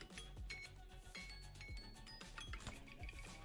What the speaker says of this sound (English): And that's my endpoint alarm.